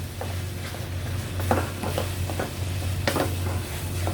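Kimchi stir-frying in a pan gives a steady, moderately loud sizzle under a low hum, broken by several sharper scraping and stirring clicks of a utensil against the pan.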